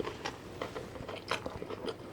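Close, crisp bites and wet chewing on a vegan jackfruit Tex-Mex taco, a quick irregular series of crunchy mouth sounds with no talking.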